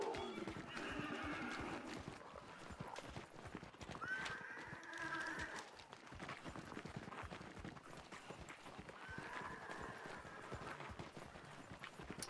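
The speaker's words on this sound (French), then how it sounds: "Il y a le cheval." A horse clip-clops along with steady hoof beats and gives a couple of loud, nearby neighs and whinnies during a hunting outing, with no talk over it.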